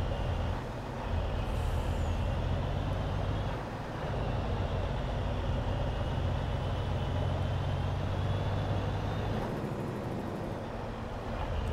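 A truck driving in the Farming Simulator 22 video game, a steady, loud engine rumble with a constant low drone and hiss, continuing unbroken with no talk over it.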